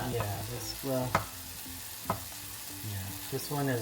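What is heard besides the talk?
chicken smashburger patties frying in a hot pan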